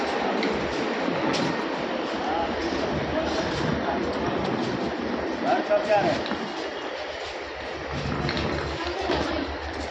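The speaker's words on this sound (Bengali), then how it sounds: "এই যে আমরা এখন শিলিগুড়ি জংশনে" Busy platform ambience at Siliguri Junction railway station: a constant rumble of trains and station noise with crowd chatter underneath, steady throughout with a brief louder swell midway.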